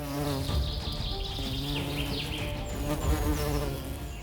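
A dense, steady buzz of many bees, close and continuous, with a droning hum that wavers slightly in pitch throughout.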